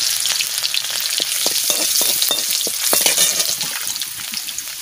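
Garlic sizzles in a pan of frying taro stolons and potatoes, with a steady loud crackle broken by frequent sharp stirring clicks throughout.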